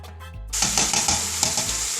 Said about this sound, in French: Je laisse revenir ma viande avec les oignons pendant 5 minutes.